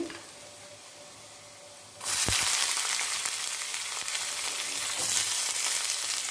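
Onions dropped into hot oil with curry leaves burst into a loud, close sizzle after a quiet start, then keep frying steadily with a dense hiss, no voices.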